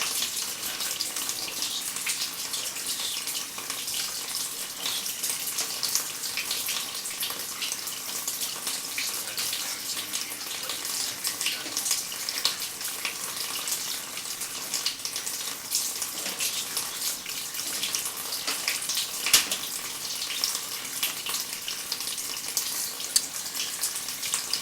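Water inside a sewer line, heard during a camera scope inspection of a residential sewer: steady rushing and trickling, close and continuous, with no talk.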